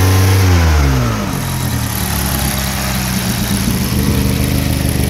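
A Toyota Camry with a crank sensor wiring fault revs up loudly, then drops back to a steady, rough idle close by, with no talking over it.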